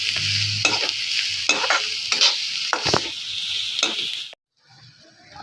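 Grated cabbage and onion stir-frying in a pan for hotel-style Manchurian rice, a close sizzle with repeated spatula scrapes and tosses, ending abruptly in a brief near-silence before faint noise returns.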